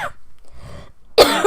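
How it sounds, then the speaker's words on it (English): Person coughing while still recovering from a flu, a short raspy cough, then a brief pause and one louder, sharper cough burst at the end, close and alone without speech. "Part of my coughing, I'm still having a slight bit of cough from my flu that I had weeks ago."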